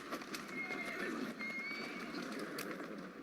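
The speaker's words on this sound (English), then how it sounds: "people still use horse-drawn carriages, and we're making PETA very mad by whipping this poor horse" A video game horse pulling a carriage in Assassin's Creed Syndicate whinnies over rhythmic clip-clopping hooves, set against a constant background hum.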